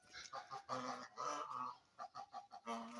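Several geese honk in short repeated calls, close by, with uneven pauses between bursts.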